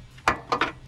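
A torque wrench being tightened to spec gives a few quiet, sharp mechanical clicks, one single snap followed shortly by two in quick succession, close up.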